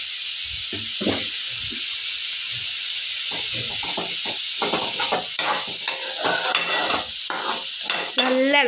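Carrots with turmeric powder fry and sizzle in a pan while being stirred, a steady close hiss broken by scraping stirs that grow busier toward the end, with no speech.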